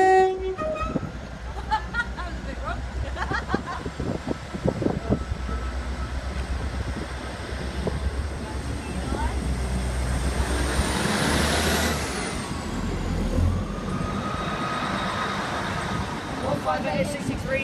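A Class 158 diesel train, unit 158863, pulls away from platform two at Thetford station in Norfolk, its engine rumble building under steady wheel and rail noise, with a horn and brake hiss partway through.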